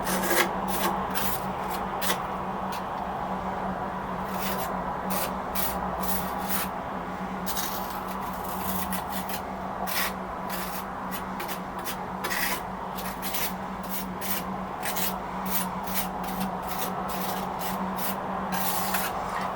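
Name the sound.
scraping ceramic medium layer while painting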